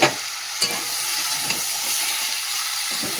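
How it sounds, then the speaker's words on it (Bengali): Eggplant and potato with salt and turmeric sauté in fish oil, a steady close hissing fry broken by a few sharp stirring clatters, with no voices. "নুন হলুদ দিয়ে তো বেগুন আলুটা ভালো করে সাঁতলে নিলাম"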